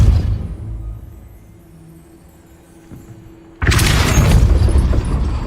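A Depulso force spell cast in Hogwarts Legacy: a hushed lull with a low hum, then a sudden loud, booming burst that shatters into a sustained crashing roar.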